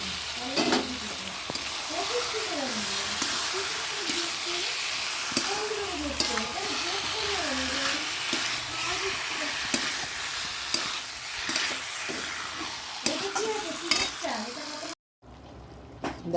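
Chicken kosha cooks in a pan, frying with a steady, loud sizzle and stirring scrapes. Someone talks over it for most of the time before a brief silence near the end.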